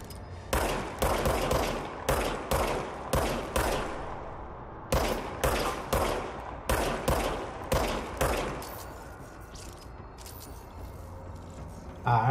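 Handgun fire in the video game Control: a rapid series of about fifteen loud, sharp shots in quick bursts, then a quieter stretch of low ambience, with a person talking faintly in places.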